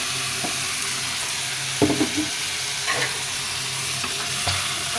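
Fish cooked with boiled water added to the pan is stirred gently, with a continuous low sizzle and bubbling and a few soft scrapes and knocks against the pan.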